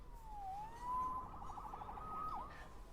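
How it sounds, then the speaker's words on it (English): A police siren wails steadily, its tone sliding down and back up in long sweeps and holding level between them. It sounds moderately distant and plays alone, with no talk over it. "Saved by the siren."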